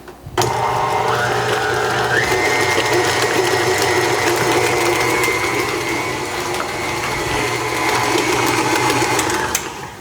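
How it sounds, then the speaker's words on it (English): An electric mixer beats strawberry cheesecake filling at medium speed, running as a loud steady whir that starts abruptly and holds for several seconds with a slight pitch rise, with no talking. "I'm just going to mix this at a medium setting until we have a nice smooth consistency here."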